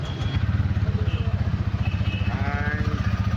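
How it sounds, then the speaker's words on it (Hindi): TVS Ronin motorcycle idling after a start, a steady, close, throbbing exhaust note with a rapid even pulse, alone without talk. "डेमो बाइक का हम लोग एग्जॉस्ट नोट सुनने वाले हैं। So let's fire the engine"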